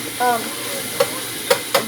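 Meat for spaghetti sizzling in a pot, a steady bright hiss throughout with a few scraping stirs of a utensil, close and fairly loud with brief voice sounds.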